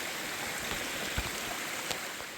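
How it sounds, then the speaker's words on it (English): Rainwater streams heavily down a mossy mountainside in steady rain, a continuous broadband rush with a few brief splashes or knocks, close and fairly loud, with no talking. "more water is pouring off this mountain like crazy"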